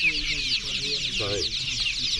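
Several chickens cluck and murmur close by at an outdoor market selling poultry and seedlings, amid a busy din of background chatter and noise.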